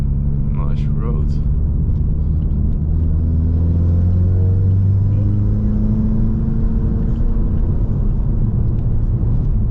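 A Ford Mustang 2.3 EcoBoost on 20-inch wheels with skinny tires rolls over a rough, bumpy road, giving a constant loud low rumble of road and engine noise with someone talking over it.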